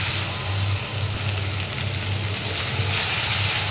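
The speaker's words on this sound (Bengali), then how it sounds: "সেটা আমি ভালো করে একটু ভেজে নেব।" Ginger-garlic paste for a duck curry frying in a pan, a steady close hiss and sizzle with a low hum underneath, no voices.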